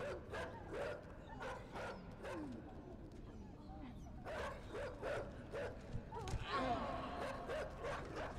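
Dogs bark and yip repeatedly in the side-scrolling game Inside, sharp bursts in an irregular rhythm over background game sound, with a voice briefly heard.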